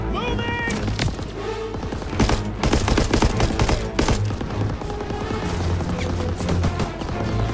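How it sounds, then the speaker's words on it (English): Sustained, loud machine gun covering fire in the World War II shooter game Call of Duty: WWII, rapid bursts rattling almost continuously with heavy impacts and chaotic battle noise. "Covering fire on the MG!"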